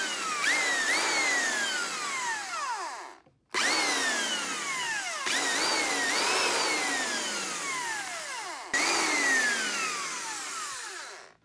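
A repaired electric drill being test-run after a sparking fault: its motor whines up in several long bursts with falling pitch as it spins down between runs, loud and close, no speech.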